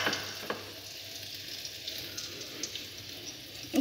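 Dried red chillies and whole garam masala spices frying in oil make a quiet, steady sizzle with small crackles and a couple of soft pops near the start and end.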